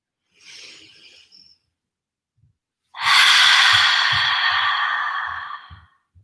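A person breathes during a mindful shoulder-shrug stretch: a soft, brief inhale, a pause, then a long, loud, airy exhale lasting about three seconds, close to the microphone with no talk.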